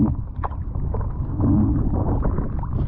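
Strong wind buffets the microphone out on open water near a small boat, a steady low rumble with water sloshing close by.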